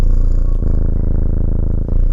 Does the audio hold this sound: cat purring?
yes